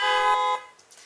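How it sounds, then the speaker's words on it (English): A sound-effect car honk blares as a steady, harmonically rich buzzing tone for about half a second, then cuts off, leaving faint scattered clatter. "So I've got a bunch of car wreck and honk sounds."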